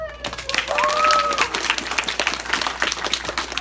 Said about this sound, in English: everywhere she went, she was greeted with thunderous applause